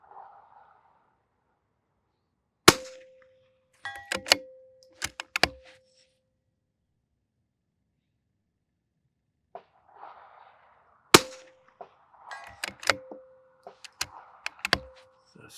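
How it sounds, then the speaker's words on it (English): Rifle shots fired with Eley Ultra Extreme Gen 2 ammunition at an outdoor range, sharp cracks in scattered groups with long quiet gaps, some followed by a brief ringing tone, fairly faint overall. "Let us get 10 more rounds on target with this ammo."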